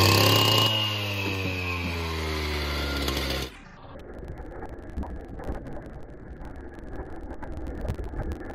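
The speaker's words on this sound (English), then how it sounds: "he used this steel cutter" A steel cutter saw runs loud and high-pitched while cutting paver bricks for a driveway expansion, then cuts off abruptly after a few seconds, leaving quieter scraping and outdoor background noise.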